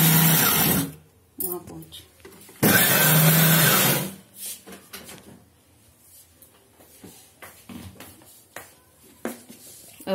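Garam masala spices ground in a mixer grinder, two loud whirring bursts of roughly a second and a half each, followed by quieter clatter and speech.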